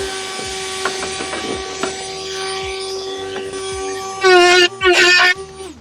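A Dremel rotary tool cuts plastic armour with a steady high-pitched whine that runs throughout. It rises into two loud, close bursts of cutting near the end, with faint scraping and light knocks underneath.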